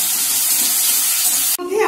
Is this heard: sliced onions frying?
yes